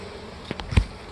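Honey bees buzz near a pollen trap, a faint low drone with a few brief louder passes as single bees fly close, heard alone without talk.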